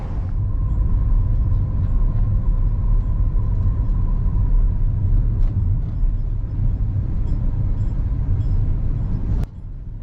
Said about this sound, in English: Let's hop in the car and get to them.